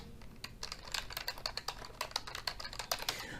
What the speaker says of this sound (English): then you'll just type in whatever you want to type in here